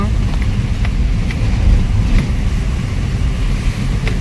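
A car driving through Kolkata streets before dawn, with a continuous low engine and road rumble and wind buffeting close to the microphone, under faint, intermittent speech.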